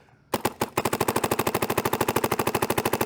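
A paintball gun firing well over 300 FPS lets off a rapid, steady burst of loud, close shots, roughly a dozen per second with an even rhythm, after a brief quiet start and one or two opening pops.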